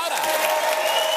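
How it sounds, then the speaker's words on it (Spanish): A television studio audience applauds, a brief, loud burst of dense clapping heard close up. "Un aplauso para los hermanos electorales"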